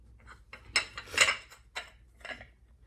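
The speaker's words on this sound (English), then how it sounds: "And I got some pots." Metal pots being handled and stacked while packing for a move, a few clattering knocks and clinks in quick irregular bursts, close and fairly quiet.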